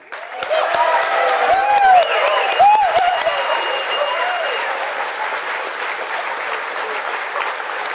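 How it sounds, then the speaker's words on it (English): Dinner-crowd audience at a Camden County Republican Lincoln Day event breaks into loud, sustained applause with scattered cheers and whoops, steady throughout and slowly tapering near the end. "let's give one great big cheer right now"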